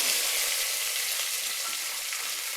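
Cumin, curry leaves and small shallots fry in a pan for a fish kuzhambu, producing a steady, dense, fairly loud sizzle throughout with no voices.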